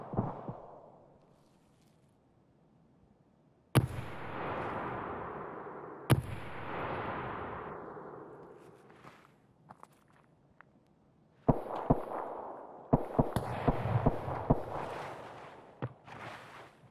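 Gunfire in the video game Escape From Tarkov: several sharp loud shots at intervals, followed by bursts of rapid cracks and impacts, over footsteps and quieter movement noise.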